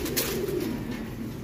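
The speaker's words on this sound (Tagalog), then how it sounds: "Violet Lines yung gift bird niya sa akin." A banded racing pigeon coos softly and close by in a low, throaty rolling call, alone with no voices.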